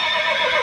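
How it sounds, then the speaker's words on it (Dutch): A horse standing in a grassy field lets out a brief, loud neigh close by, heard alone without talk, during an outdoor summer show at an amusement park. "Hier staat alleen maar een paard in dat weiland."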